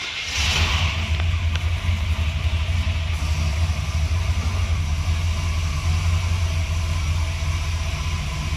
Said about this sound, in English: I'm going to have Tyler just give this thing a start up so you can hear it run